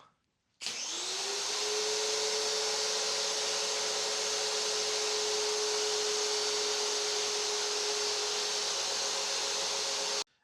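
A pair of Craftsman 1700 pressure washers spraying through a Keeve nozzle start up abruptly into a loud, steady high-pressure hiss with a constant motor whine, running unbroken for about ten seconds before cutting off.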